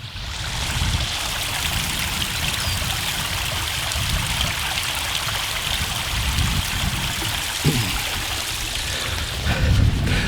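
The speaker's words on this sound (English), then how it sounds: "I've found a nice little spot with a running stream. I'll show you the stream." Running water from a small outdoor stream trickles and burbles steadily, with a close, continuous gurgle and a couple of brief low knocks toward the end; no one speaks.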